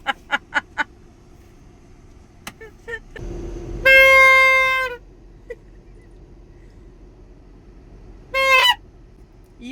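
A custom horn fitted to a Volkswagen car sounds as a rooster crowing, two loud bursts, one long and one shorter, with a few faint knocks and taps between them.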